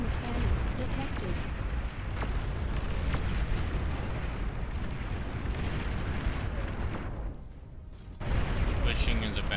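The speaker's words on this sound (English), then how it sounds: "Long-range plasma cannon detected." Long-range plasma cannon fire and explosions in the real-time strategy game Beyond All Reason, dense rumbling booms and blasts layered continuously, with a brief lull before a heavy impact.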